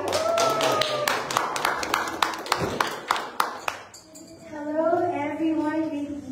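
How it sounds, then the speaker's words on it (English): A round of applause breaks out as an audience claps in a burst of sharp, irregular hand claps for several seconds. The claps fade out and a voice begins speaking alone. "Let's give her a round of applause"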